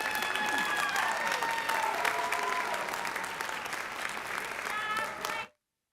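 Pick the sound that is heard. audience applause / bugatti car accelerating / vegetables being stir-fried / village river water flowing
audience applause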